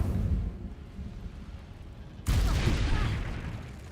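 An Incendio fire spell from Hogwarts Legacy erupts with a sudden loud whooshing burst of flame partway through, roaring broadly over a steady rumbling game background.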